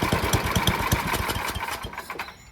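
A snowblower engine with a dirty carburetor runs roughly at half throttle, chugging loudly in uneven rapid pulses that falter and fade as it stalls out.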